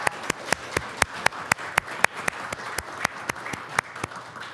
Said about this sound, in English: So if we could give a round of applause.